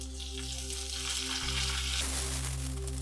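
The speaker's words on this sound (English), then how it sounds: "I like to fry mango in this tempering." Mango pieces frying in a ghee tempering with minced garlic for South Indian mango dal, a steady close sizzle over a low continuous hum.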